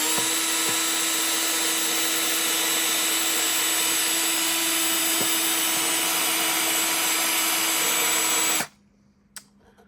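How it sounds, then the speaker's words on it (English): A loud, steady whining power drill bores into a magnet at close range, with a faint tonal hum, then cuts off abruptly near the end, leaving near silence. "I wanted to drill a hole because we're going to try to crack the magnet."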